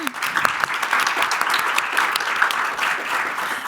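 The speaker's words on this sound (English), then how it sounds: "let's thank the panel with a little round of applause" An audience applauds a panel at the close of a discussion event, dense steady clapping from many hands filling the whole stretch, fairly close and even in level.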